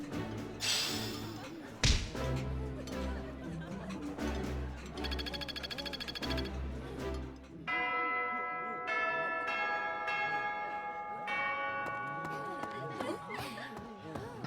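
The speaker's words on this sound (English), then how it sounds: "I love that the bells are the Fire Emblem theme." Church bells in Fire Emblem: Three Houses chime the Fire Emblem theme as a melodic run of sustained, ringing tones over layered in-game music, fairly loud and steady throughout.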